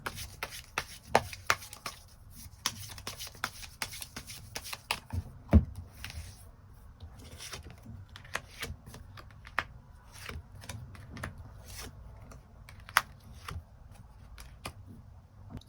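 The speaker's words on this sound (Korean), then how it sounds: "추가 카드로 앞으로 우리 두 사람의 관계에 필요한 조언의 카드 무엇이 있을지 추가 카드 뽑아보도록 하겠습니다." Tarot cards are shuffled and drawn by hand, giving a busy run of soft riffling slaps and taps, close and fairly quiet, with no talking.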